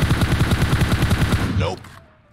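Rapid, evenly spaced automatic gunfire in PUBG Mobile, a loud close burst of about a dozen shots that cuts off, followed by a short fading tail.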